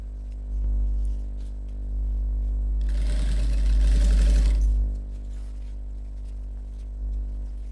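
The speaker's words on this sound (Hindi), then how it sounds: "यहाँ से यहाँ तक हमने सिलाई की" Electric sewing machine stitching a fabric expandable shopping bag, a steady mechanical motor hum with a louder burst of rapid needle stitching in the middle, close and alone.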